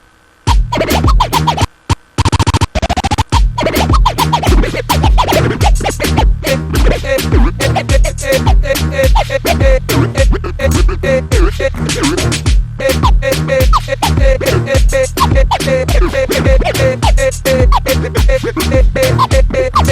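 A loud DJ-style scratch effect made with Live Transform in Sony Acid Pro 7 runs over a looping beat, with rapid stuttering cuts and brief gaps early on, continuous to the end.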